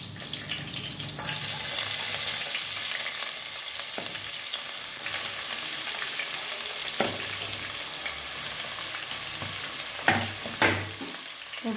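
Sliced onions with a little salt sautéing in oil in a pan for mutton biryani, a steady loud sizzle and hiss throughout, broken by a few stirring scrapes and knocks near the end.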